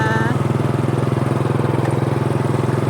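Close motorcycle engine running with a fast, even throbbing pulse on a rural paved road, a steady loud putter throughout the short moment.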